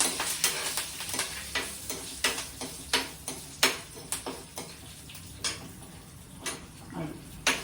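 Spices with asafoetida hit hot oil in a small tempering pan, making a soft sizzle punctuated by frequent sharp clicks and taps of a spoon against metal, fairly faint and close.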